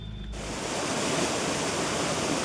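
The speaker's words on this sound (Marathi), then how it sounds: "तर आपण आलोय घाटात आणि हा आहे धबधबा" A mountain waterfall in a ghat on the way to Chiplun gives a steady, loud broadband roar of rushing water that begins abruptly and continues without a break, with no voices.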